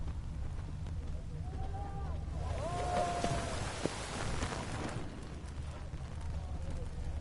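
Heavy rain pours down steadily in the video game The Witcher 3: Wild Hunt, a constant hiss beneath a low rumble, while someone speaks briefly in the middle.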